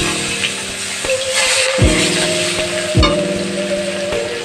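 Grated onions sizzle steadily in hot oil in a pan, a dense continuous frying hiss with a few sharper bursts and low knocks as they hit the pan, close and loud with no talking.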